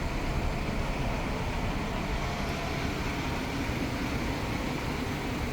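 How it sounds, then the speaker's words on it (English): Cars being unloaded near a used SUV lot, a steady broadband mechanical rumble and hiss with no distinct events, fairly close and continuous. "we got cars unloading there"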